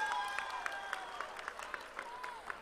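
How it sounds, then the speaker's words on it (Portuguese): A political convention audience in Paraíba, Brazil, applauds a deputy, with a sustained wash of clapping and sharp individual claps throughout, some cheering and voices under it. "Recebam com vibração e aplausos a deputada Edna Henrique."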